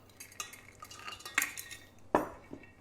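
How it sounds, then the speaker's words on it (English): Cashews for a dairy-free vegan nacho cheese sauce drop into a container in a few sharp, close clatters and rattles, spaced unevenly in a quiet kitchen. "So you want to add some cashews."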